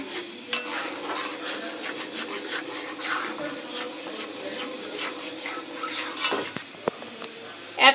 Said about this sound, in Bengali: এখন হোয়াইট সসগুলি অনবরত নাড়তে থাকবো।